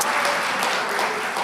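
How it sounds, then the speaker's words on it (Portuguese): A church congregation claps together during a Quadrangular service, a steady, loud wash of applause filling the whole moment without any talking. "dar a sua melhor salva de palmas para Jesus"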